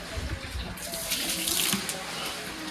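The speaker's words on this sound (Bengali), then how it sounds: "এখন এই জলটা ফেলে দেবো।" Washing water being poured out, a steady close gush and splash of liquid running throughout, swelling briefly louder in the middle.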